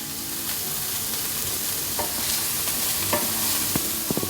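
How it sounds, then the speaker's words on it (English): Bacon frying in oil in a pan for chicken and mushroom carbonara, sizzling steadily and up close, while a utensil stirs and scrapes the pan with a few sharp clinks near the end. "So this needs to cook for 2 or 3 minutes until the bacon starts to turn golden."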